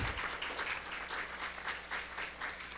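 Applause greets an FDA representative invited onstage at an international bioequivalence course, a steady, fairly faint wash of many hands clapping with a low hum underneath.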